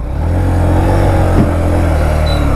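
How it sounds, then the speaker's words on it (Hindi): A car approaches with a loud, steady engine drone and rising rumble on a blocked road under flyover construction in Ayodhya, close and continuous with no talk over it. "गाड़ी आ तो रही है यार।"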